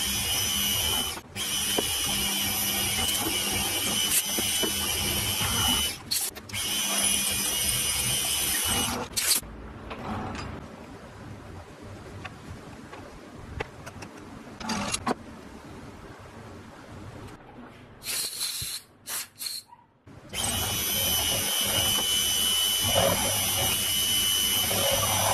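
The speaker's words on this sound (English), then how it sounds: "Anyway, we'll get this hole drilled in here." A drill bores a hole through metal for a die grinder tool post adaptor. The loud, steady grinding drone is close, eases to a lower rumble through the middle, then comes back at full strength.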